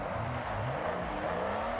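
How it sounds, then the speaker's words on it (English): Car drifting at night on a drift track in the video game Forza Horizon 6, with a steady, loud engine drone and sustained tire squeal sliding in pitch throughout, no talk. "Drifting at night"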